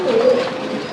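Gola pigeons give a single soft, close coo that rises and holds briefly before fading into a quieter background murmur.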